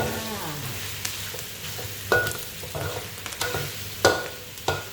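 Pork rinds crackle in hot oil during a second fry, a dense close sizzle with scattered pops and occasional scraping stirs against the pan.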